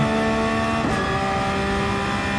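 A race car engine in Gran Turismo 7 holds a steady high-revving drone during a time-attack lap, then dips briefly as a gear is shifted before pulling on at a lower, slowly climbing pitch.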